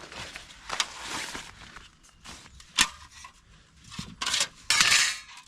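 A small metal camping stove is clattered together in woodland, bursts of metallic clanks and rattles with quiet scraping pauses between, growing louder toward the end.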